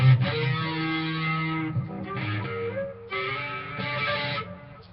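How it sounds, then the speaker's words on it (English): An electric guitar plays through an amp with a heavy distortion effect, giving thick, buzzing sustained chords that change twice. It is loud and close, with no talking. "That distortion's a bit too aggressive."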